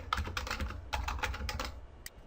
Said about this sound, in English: So in the Find field, I'll type in executive